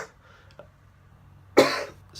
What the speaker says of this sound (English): I'm coughing way too much.